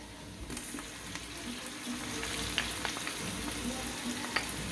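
Garlic sizzles in a pan with translucent onions for a cream of broccoli, mushroom and Swiss soup, a bright, continuous crackle that jumps in loudly at the start and keeps spitting close by.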